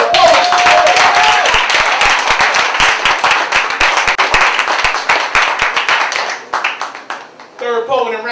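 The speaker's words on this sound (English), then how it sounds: "Applaud to Quote." Loud, dense audience applause at a poetry slam championship in New York City, a steady wash of many hands clapping with cheers, tapering off as a voice starts to speak at the end.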